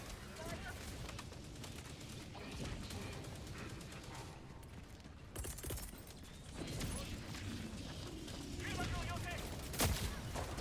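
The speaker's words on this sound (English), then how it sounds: "The hell is that thing shooting at?" Dense, continuous gunfire from an enemy in Helldivers crackles in rapid bursts for the whole stretch, with heavier blasts and mechanical clatter mixed in.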